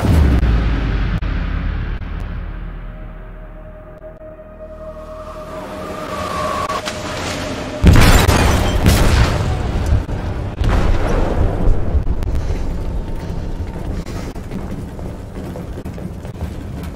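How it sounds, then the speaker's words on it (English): An explosive detonating in a ship's hold in Detroit: Become Human, a sudden deep boom after a rumbling build-up, followed by sustained roaring, creaking and crashing debris, loud and close. "They detonated an explosive in the hold."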